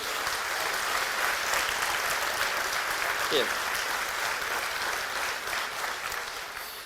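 Steady, sustained applause from a large audience at a town's New Year ceremony, for a national police band, fills the whole stretch, even and fairly loud throughout.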